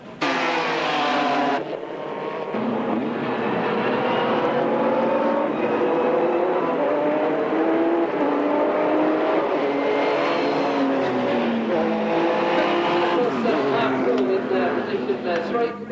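A Shrike Formula Holden race car engine runs loud and steady, its pitch rising and falling as it revs through gears, close by for the whole stretch.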